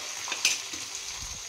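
Crushed onions frying in hot oil for a rustic sambar with drumsticks, giving a soft, steady sizzle with a brief louder burst as they are stirred, no voices.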